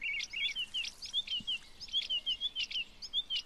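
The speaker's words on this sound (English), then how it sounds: "I can hear this freaking bird tweeting right next to my ear." Birdsong inside the fishing video game Euro Fishing: a small bird tweets in rapid repeated high chirps and trills, close and fairly loud against a quiet background, with no talking.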